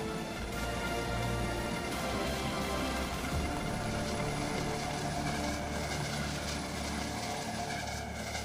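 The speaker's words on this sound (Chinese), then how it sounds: "今天，国产先进直升机将要进行严寒条件下的飞行训练。" Chinese military helicopters fly in freezing, snowy mountain conditions, a steady rotor and turbine drone that fills the whole span evenly, loud and continuous without voices.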